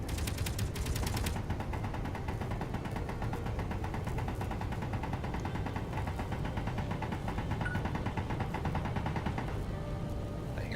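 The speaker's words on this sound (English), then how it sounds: "Something shooting." Rapid turret gunfire in the space game Space Engineers, a dense continuous mechanical rattle of shots holding steady and loud throughout, with no voices.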